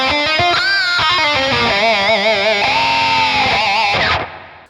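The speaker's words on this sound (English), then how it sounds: "Let's try this sweet space reverb." Electric guitar played through the space reverb effect of a Valeton GP200 LT multi-effects unit, sustained shimmering chords and notes with a wide, washy tail, loud and continuous before fading out near the end.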